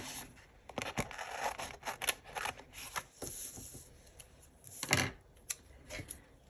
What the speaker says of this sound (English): Okay, let me cut this off.